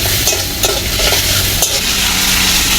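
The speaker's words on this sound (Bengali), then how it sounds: "দিয়ে আবার ভাজা হবে।" Potatoes frying in a pan and being stirred during home cooking, a steady loud sizzle with scraping strokes of a spoon against the pan throughout.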